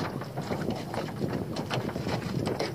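Small dinghy moving on water during a morning fishing trip, a steady close rumble and vibration with wind buffeting the microphone throughout.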